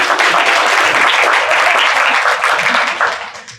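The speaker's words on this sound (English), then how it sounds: "Please join me in applauding Michelle." An audience at a youth entrepreneurship challenge applauds the event's host, a loud, dense wash of clapping that holds steady and then fades toward the end.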